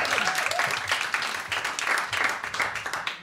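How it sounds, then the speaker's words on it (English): A live crowd at a comedy roast for a 30th birthday claps for the comedians, a dense, steady wash of applause lasting the whole stretch, with a few faint voices mixed in. "give them a round of applause, the comedians"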